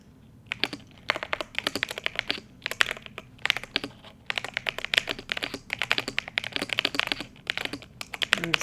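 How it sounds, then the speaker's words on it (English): Fast typing on a computer keyboard, heard up close and alone in dense bursts of crisp key clicks with short pauses between runs. "You get to hear my ASMR keyboard."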